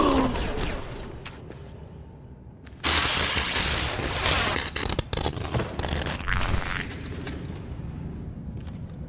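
Droids open fire in a Star Wars video game, producing dense bursts of blaster shots and mechanical clatter that start after a quieter opening and continue loud and choppy to the end.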